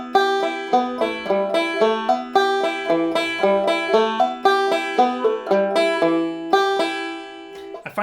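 Two-finger banjo picking a steady single-note melody line of "Nine Hundred Mile," with extra middle-finger notes slipped between the main melody notes, giving a quick, even rhythm of bright plucked attacks, close and clear with no talking.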